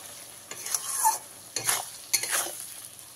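Bhetki fish bone chorchori stirred and fried in a pan, three bursts of spatula scraping over a steady sizzle, close and fairly loud with no talking.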